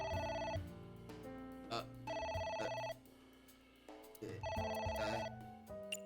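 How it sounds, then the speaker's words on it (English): A telephone rings in the video game AI: The Somnium Files, loud repeated electronic ring bursts with short pauses between them, alone without talk. "It's ringing again. What should I do?"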